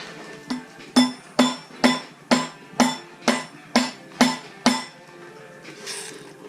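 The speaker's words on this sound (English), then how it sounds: "I prefer to use a rubber hammer" Nine evenly spaced rubber hammer blows strike a Mazda RX-8 rotary engine during teardown, close and loud, each a sharp knock with a short metallic ring, then a quiet pause.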